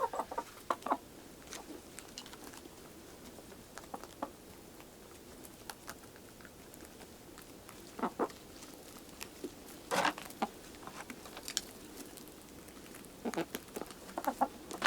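Backyard chickens cluck in short scattered bursts over a steady outdoor hum, with irregular pecking and scratching sounds at moderate distance.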